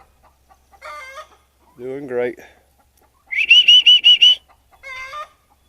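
Short bursts of clucking and a rapid run of high squawking calls from poultry close by, with a brief spoken remark in between.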